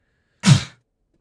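A single sharp sneeze bursting out close by in a quiet room, loud and brief, then silence.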